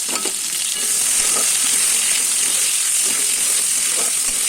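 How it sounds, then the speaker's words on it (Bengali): Chopped onion and tomato fry in hot oil in a kadai, producing a loud, constant bright sizzle with faint stirring scrapes underneath and no talking. "পেঁয়াজ কুচি আর টমেটো কুচিটা ভালো করে ভাজা করে নেব।"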